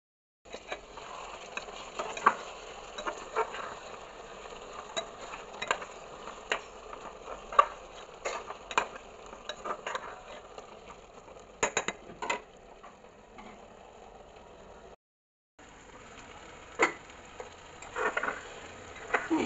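Meat frying in a covered pot with a little water added, heard as a faint, steady sizzle broken by scattered light scrapes and knocks of stirring, with no voices.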